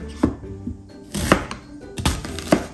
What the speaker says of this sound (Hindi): चलें आप भी मेरे साथ चॉप करें